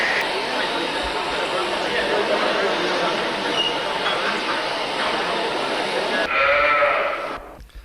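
Sheep bleat steadily amid the noisy bustle of a Young Farmers' Club rally shearing competition in Knighton, 1990, the crowded hall sound continuing throughout before a brief shift near the end.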